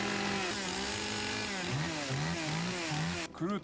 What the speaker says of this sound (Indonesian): Iwao menyalakan gergaji mesinnya